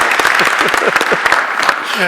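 Crowd applause at a Skagit Valley College law enforcement academy graduation ceremony, moderately loud clapping running throughout while a voice speaks over it.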